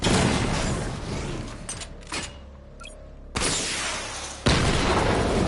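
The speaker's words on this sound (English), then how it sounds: "Missile barrage level 1 ready." A missile barrage launching in a Batman game: heavy booming blasts and mechanical bursts, with a loud rush of launches near the start, a lull, then two fresh powerful bursts toward the end.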